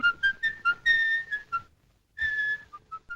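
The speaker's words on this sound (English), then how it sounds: "Note the eerie sound of his whistling," A serial killer played by Peter Lorre whistles an eerie tune in an old film, a shrill melodic phrase of short and held notes, a brief pause, then the melody resumes alone.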